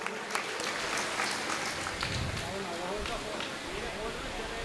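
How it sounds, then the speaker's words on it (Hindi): An audience at a Bhagwat Katha gathering claps to welcome arriving guests, a steady wash of applause with a speaking voice running over it. "जोरदार तालियों से स्वागत कीजिएगा।"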